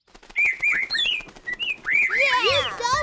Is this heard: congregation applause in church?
no